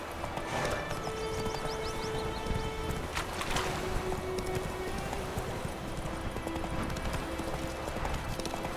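Horse hooves clip-clop steadily through the whole stretch while riding in The Witcher 3, a moderately close, even rhythm with faint background ambience and an occasional snort.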